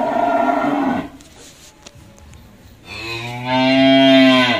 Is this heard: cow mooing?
yes